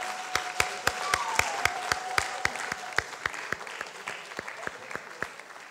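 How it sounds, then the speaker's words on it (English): Sparse, slow rhythmic clapping from a conference audience: about two dozen evenly spaced sharp claps over a faint crowd background, with no speech over it. "The applause is not loud enough"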